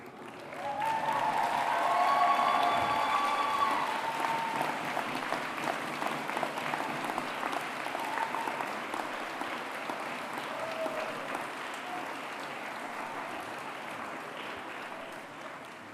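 Graduates at a Cambridge graduation ceremony applaud their friends and family in a large hall, a broad, sustained wash of clapping that swells early and then continues steadily for the full stretch, with some murmuring and tones underneath.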